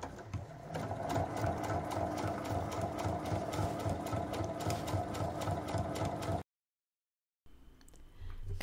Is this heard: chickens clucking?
no